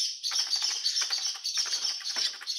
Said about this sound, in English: And another bird in the second window.